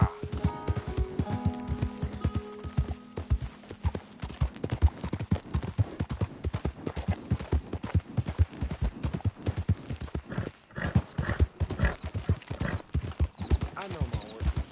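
Galloping horse hooves in Red Dead Redemption, a fast rhythmic clip-clop beat running steadily throughout at close range, with a brief tonal accent early on and occasional sharper hits.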